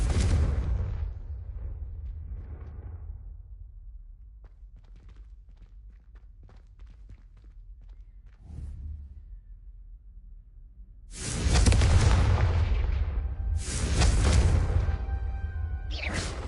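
Confringo fire spells in Hogwarts Legacy burst as heavy booming blasts, one at the start and a louder pair late on, with softer thuds and game ambience between.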